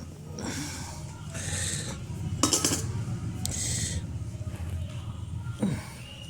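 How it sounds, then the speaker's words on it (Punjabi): Beetroot wrapped in a handkerchief is pounded by hand, giving a series of dull thuds with a few sharper knocks, close and moderately loud, while a person talks over it. "ਰਮਾਲ ਨੂੰ ਆਪਾਂ ਐਂ ਕੁੱਟ ਕੇ ਚੰਗੀ ਤਰ੍ਹਾਂ"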